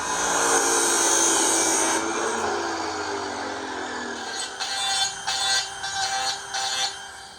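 A power saw cuts the end off a frame piece for a paramotor base. It starts as a loud continuous whine that drops in pitch as it bogs down, then gives way to several short buzzing bursts, all close by with no talking.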